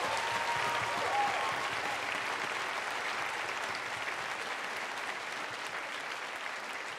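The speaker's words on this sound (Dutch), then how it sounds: "Geef ze een hartelijk applaus." Steady applause from an audience at a live Christmas Eve concert in Dronten, a dense wash of clapping that holds evenly for the whole stretch with no voices over it.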